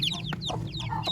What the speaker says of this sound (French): Et mon poussin Brahma.